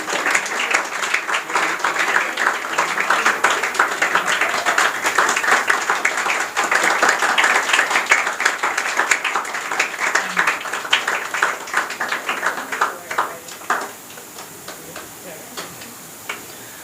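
Audience clapping for a girl receiving a prize at a school confidence-building program, a loud continuous patter of many hands that tapers into scattered claps near the end, with some talk underneath.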